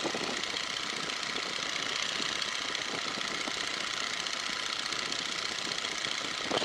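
Boeing N2S-3 Stearman biplane radial engine running in flight, a steady dense droning roar mixed with wind rush, constant in level and heard from inside the open cockpit.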